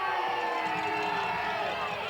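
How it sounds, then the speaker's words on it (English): A high school football crowd roars steadily in an outdoor stadium after a penalty, a dense wash of distant cheering and shouting that holds at a constant level throughout. "Might be able to hear the reaction of their crowd"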